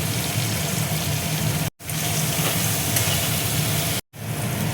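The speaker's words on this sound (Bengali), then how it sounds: "অল্প করে দেখো জল দিয়ে দিচ্ছি, নাহলে মশলাটা পুড়ে যাবে।" Water poured into a pan of frying ground spices sets off a loud, steady hiss and sizzle, broken by two brief silent gaps.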